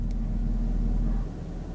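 A 2023 Chevrolet Camaro LT1 V8 idles in touring mode with its exhaust valves closed, giving a faint, muted, steady low rumble that eases slightly toward the end.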